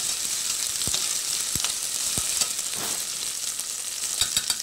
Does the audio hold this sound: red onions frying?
yes